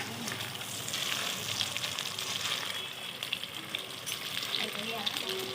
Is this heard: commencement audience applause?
no